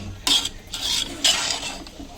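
A spoon scraping and stirring beef achar gosht with almonds and dates in a pot: a few distinct, close stirring strokes separated by short pauses, with no talking.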